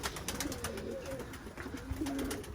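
A pigeon coos softly in a few low, rolling calls, held in hand outdoors, with faint background noise and no talk over it.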